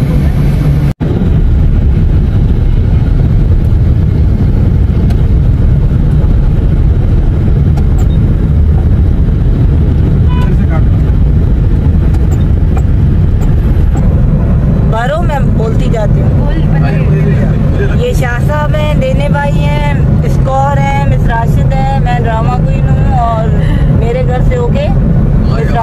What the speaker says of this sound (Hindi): गाड़ी भी आगे बढ़ गई